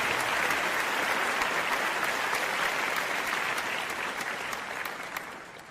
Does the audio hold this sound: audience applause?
yes